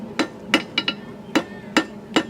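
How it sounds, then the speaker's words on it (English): A blacksmith hammers out the stem of an iron roasting fork at a historical rendezvous forge, with six sharp ringing blows in an uneven rhythm, one quick double strike among them, close and clear with no talk. "I'm just pounding out the stem here"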